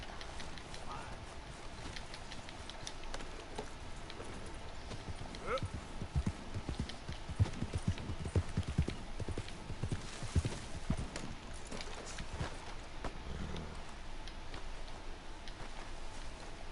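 Horse hooves clip-clop in a steady trotting rhythm in the Red Dead 2 video game, moderately close, over a noisy outdoor background with occasional speech.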